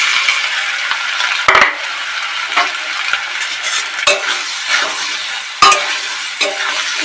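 Soybean and potato curry fries in a hot pan, a constant loud sizzle punctuated by sharp spatula scrapes and clinks against the pan at irregular intervals, with no talking.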